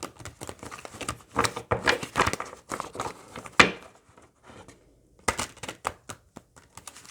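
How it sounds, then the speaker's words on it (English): A tarot-style Osho card deck is shuffled by hand in quick, irregular bursts of crisp riffling and slapping card sounds, close and fairly quiet, with brief pauses between flurries and no talking. "I'm getting shuffles going, y'all."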